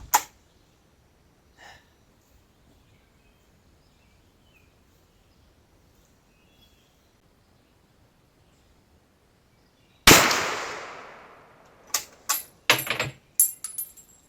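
A Krag hunting rifle fires outdoors: one sharp shot at the start, then after a long quiet pause a loud crack with a decaying tail, followed by several shorter sharp reports in quick succession.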